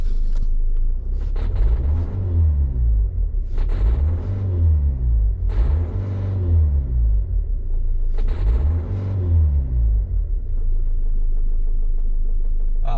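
A Citroen C4 Grand Picasso engine revs up and falls back about four times in slow cycles, a rough misfire stumbling through each swell over a constant loud low rumble.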